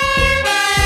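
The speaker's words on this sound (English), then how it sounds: "We found the fire truck." Toy fire truck siren sounds a steady, loud electronic wail, close and alone, with a pitch shift partway through.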